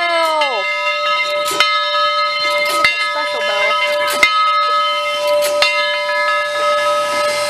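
A bell clangs repeatedly at a railway turntable, sharp struck tones ringing with a long sustained tone beneath, opening with a falling whistle-like note, while people talk and cheer nearby.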